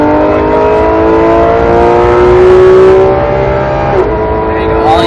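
Porsche 911 GT3 RS accelerating hard on the Vegas Speedway road course, its engine note rising and holding loud and close, with a brief dip near a shift, while an instructor's voice coaches over the top.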